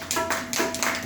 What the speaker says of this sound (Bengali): তার জন্য একটা হাততালি